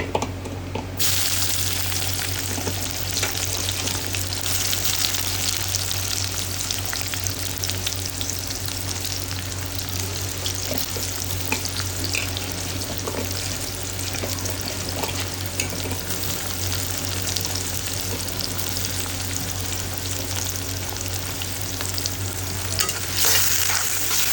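Onion and garam masala sizzle in a pan of oil while being stirred for a shrimp bhuna. A continuous loud frying hiss carries soft scraping stir strokes throughout, with no talking.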